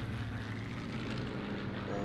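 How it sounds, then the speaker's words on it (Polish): Airplane passing overhead in Sniper Elite 3, a continuous loud propeller-engine drone filling the whole moment with a steady low rumble. "Samolot."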